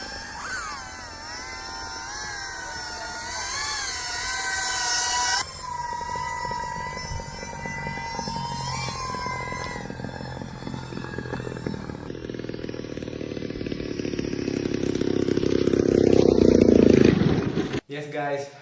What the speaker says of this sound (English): finally we flew the 61cc RC plane